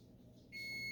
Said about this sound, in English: my timer's counting down. It's getting ready to beep